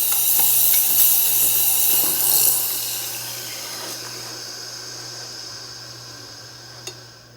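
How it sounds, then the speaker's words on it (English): Steam hissing from a Breville 870XL espresso machine: a strong, bright hiss that tapers off after a couple of seconds into a quieter steady whoosh, with a low hum underneath and a small click near the end. "So you can see it's a pretty good amount of steam"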